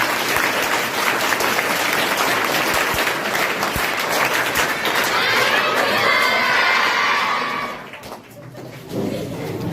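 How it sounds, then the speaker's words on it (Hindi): Schoolchildren clap and cheer loudly in a classroom for a visiting teacher, shouts rising over the applause before it fades near the end. "आपको बेहतरीन सर का अभिवादन करो। 5 तालियां।"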